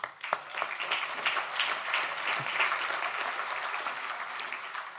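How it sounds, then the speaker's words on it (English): Audience at a European young farmers' congress applauds panel speakers, steady mid-distance clapping from a large room that stays even for several seconds. "A round of applause for them, please."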